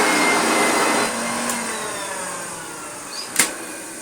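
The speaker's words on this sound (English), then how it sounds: "Let us see what this sounds like." Hoover Junior 1334 vacuum cleaner motor running loud and steady close by, its whine slowly dropping and fading toward the end, with a brief clatter near the finish.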